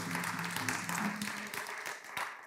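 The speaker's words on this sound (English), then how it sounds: "y'all can clap for her" Audience clapping at a community town hall at George Floyd Square in South Minneapolis, honoring a councilmember; moderate, steady applause with a low hum and murmur underneath, fading slightly near the end.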